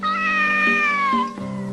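A cat in an animated cartoon lets out one loud, drawn-out meow close by, its pitch sliding gradually downward before ending abruptly.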